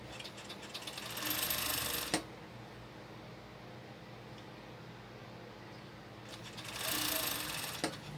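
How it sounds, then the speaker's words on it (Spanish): A sewing machine stitches a crop top in two short, fast bursts of rapid mechanical clatter, separated by a quiet pause with faint room noise. "Y seguimos cosiendo."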